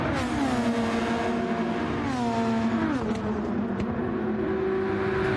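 Formula 1 cars race in a video game as a Red Bull chases a Mercedes at Spielberg, a loud continuous high engine whine with pitch dipping and rising through a corner, one car close behind another.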